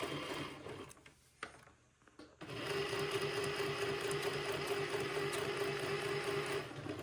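Sewing machine stitching the first 1/8-inch pass of a French seam on a baby bubble romper, a steady whirring hum after a brief stop-and-start, running alone without talk.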